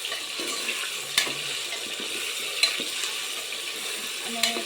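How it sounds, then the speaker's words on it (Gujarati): A spoon scrapes through cubed potatoes frying in oil with turmeric and salt in a pressure cooker, with a soft sizzle throughout and a few sharp clinks against the pot. There are no voices. "તો આપણે હળદર મીઠું નાખી દીધું આપણે મિક્સ કરી લઈશું"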